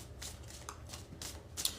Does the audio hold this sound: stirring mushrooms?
no